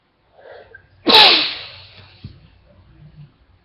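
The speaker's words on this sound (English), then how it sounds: "Sorry, I had to sneeze." A single loud, explosive sneeze from a man with a mild cold, preceded by a short sharp inhale and followed by quieter breathing and small movement sounds nearby.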